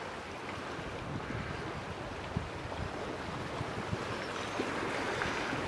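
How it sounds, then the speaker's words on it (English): Floodwater rushes along a flooding river during a storm, a constant, dense roar of broad noise with faint wind buffeting and no voices. "And the water is really coming."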